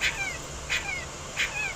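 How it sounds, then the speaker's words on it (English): A puppy left in a hot car whimpers three times in thin, high, drawn-out cries, evenly spaced over a low background hum. "he heard cries coming from a vehicle, a puppy left in a scorching hot car"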